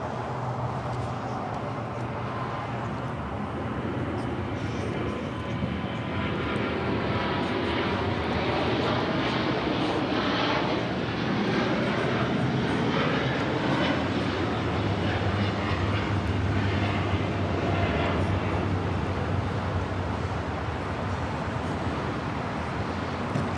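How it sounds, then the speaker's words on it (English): An Air Premier Boeing Dreamliner takes off at LAX with a loud, sustained jet roar that swells and holds steady throughout, heard from some distance with no talk over it. "the Air Premier Dreamliner about to take off here"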